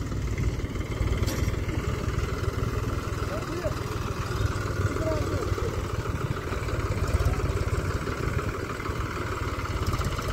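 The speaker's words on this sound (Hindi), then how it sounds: "महिंद्रा 265 DIXP प्लस ट्रैक्टरी परफॉर्मेंस देखिए, पावर टेस्टिंग हो रही है इसकी।" Mahindra 265 DI XP Plus tractor diesel engine running under load while hauling a fully loaded trolley during power testing, a steady low rumble throughout, with people talking over it.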